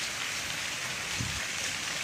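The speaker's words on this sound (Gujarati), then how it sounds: "વરસાદ ચાલુ છે" Steady rain falling over farmland in Porbandar district, a soft continuous hiss of drops at moderate distance, with one brief low thud midway and no speech.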